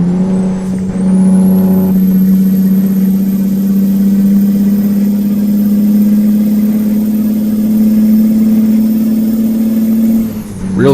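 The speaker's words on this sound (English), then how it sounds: "it has the droning effect when you're ripping down the freeway" Kenworth T100 truck in American Truck Simulator drones steadily at freeway speed, a loud, constant low engine hum with turbo whine layered on top, running unbroken for about ten seconds with no voices.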